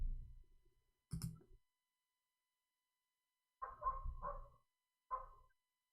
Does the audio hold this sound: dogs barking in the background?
yes